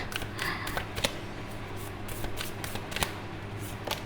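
Tarot cards shuffled by hand in a repeated riffle-and-tap rhythm, crisp close flicks and soft slaps over a low steady hum, with no talking.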